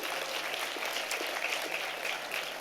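Audience applause at a formal dinner gala, a dense, even patter of many hands clapping continuously from nearby, steady in loudness throughout with no talking over it.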